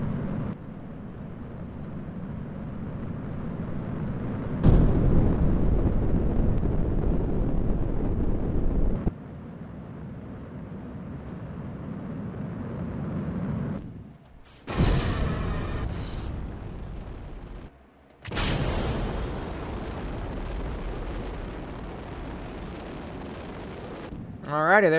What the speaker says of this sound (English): Off goes the rocket.